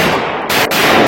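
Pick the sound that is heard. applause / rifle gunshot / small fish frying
rifle gunshot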